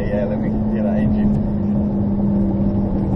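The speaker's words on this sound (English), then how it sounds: "Make a bit of noise. Pop this down a bit. Yeah. Let me hear that engine." Ferrari 458 Spider V8 engine running steadily with a low droning hum, heard from inside the open-top car over wind and road noise, with some talk in the background.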